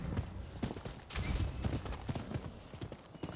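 Horse hooves clip-clop in the video game Rise of the Ronin, a close, rapid run of hoof thuds with a faint whinny, under game ambience.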